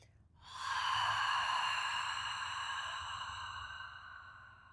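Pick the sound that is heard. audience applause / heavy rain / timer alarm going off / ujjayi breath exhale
ujjayi breath exhale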